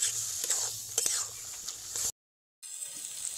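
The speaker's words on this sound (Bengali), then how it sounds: "4 থেকে 5 মিনিট এই রকম হালকা আছে এটাকে ঘন ঘন নাড়তে থাকবো।" Minced meat and egg frying in a pan with chicken curry spice, stirred often over low heat: a soft, steady sizzle with light scraping, broken by a brief silence before the frying resumes.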